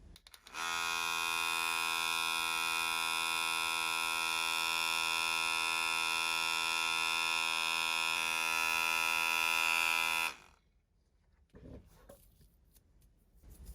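An electric makeup brush cleaner and dryer running on speed 2, a loud steady high-pitched motor whine that starts abruptly, holds for about ten seconds, then cuts off, leaving faint handling noise.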